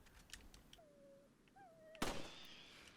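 A gunshot goes off in the video game Resident Evil 4, one sharp loud crack with a brief ringing tail, coming after a quieter stretch of faint tonal game sounds.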